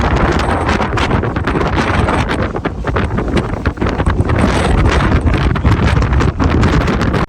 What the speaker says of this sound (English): Wind is crazy here.